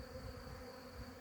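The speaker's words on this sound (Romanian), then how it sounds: "Că se bagă o albină și în sare de acolo." Honeybees buzz around a swarm trap outdoors, a steady, faint drone with a clear pitched hum and no pauses. Nobody speaks.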